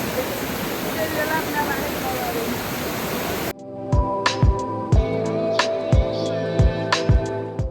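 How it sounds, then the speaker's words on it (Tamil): Small waterfall in rocky hill country: a loud, steady rushing hiss of falling water for the first half, then it cuts off abruptly to a quieter scene of sharp, regularly spaced clicks and tones. "ஒரு குட்டி அருவிக்கு வந்திருக்கோம்"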